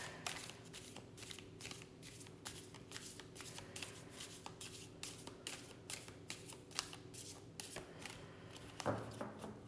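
A tarot deck being shuffled by hand, soft rapid riffling and tapping bursts repeating at a fairly even pace, quiet and close, with no speech.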